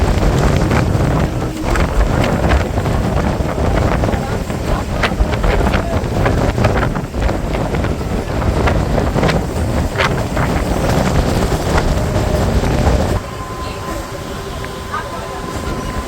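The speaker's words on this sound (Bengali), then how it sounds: "এই আমাদের ট্রেন কিন্তু ছেড়ে দিয়েছে বনগাঁ স্টেশন থেকে।" Local commuter train running after leaving Bongaon station, a steady loud rumble and rattle with heavy wind buffeting the microphone, easing to a quieter hum near the end.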